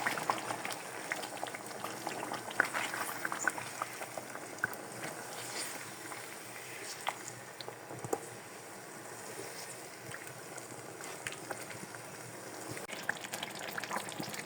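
Onion and tomato paste with a little water cooks on high heat for a chicken achari curry, giving a quiet, steady bubbling and sizzling with small pops scattered throughout.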